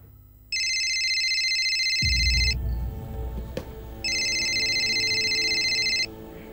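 A telephone rings in two loud electronic bursts, each about two seconds long, separated by a pause with a low thud and rumble in between.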